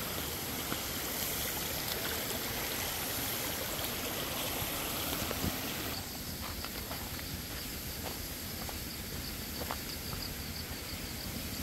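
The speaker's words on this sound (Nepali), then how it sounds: "बाटोमा यसरी हेर्नु त, मूल बाटोमा खोला बगेको छ" Continuous rushing of a stream flowing over rocks and across a road after heavy rain near Chinde Danda, Dharan, Nepal, steady and broadband, with faint scattered knocks and splashes, fairly close.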